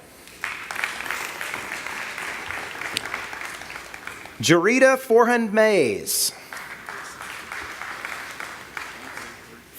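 Audience applause at a political forum for state school superintendent candidates, a steady broad clapping wash under an announcer's voice calling out names, with a brief louder spoken passage midway.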